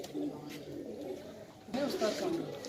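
Nawabi pigeons in a loft in Tonk, Rajasthan, give low, rolling coos, a few short calls close by, with a voice talking over them.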